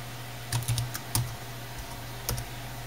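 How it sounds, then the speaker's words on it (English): A few keys tapped on the keyboard of a 2010 Toshiba L755 laptop, small irregular clusters of close clicks over a steady electrical hum. "Keyboard seems to work good so far."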